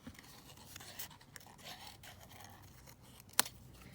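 Scissors cut through laminated paper ephemera in a series of faint, quiet snips and scrapes, ending with one sharper cut near the end.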